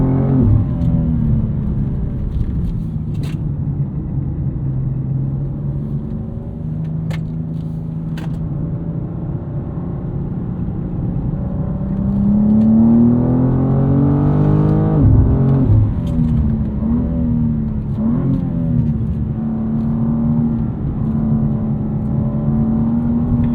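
Several BMW M cars, among them an M2, i5 M60, M4, X4 M and Z4 M40i, accelerating on the track at the BMW Performance Center, with a steady loud engine drone that swells and rises in pitch around the middle.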